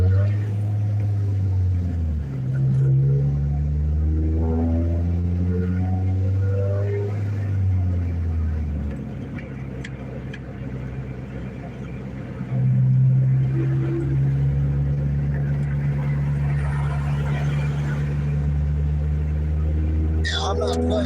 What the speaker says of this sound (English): I have a loud car, I like a loud vehicle